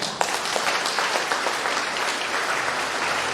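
An audience in church applauds the musicians and the Sacré-Cœur choir at Sunday Mass in Lent, a continuous, fairly loud patter of many hands.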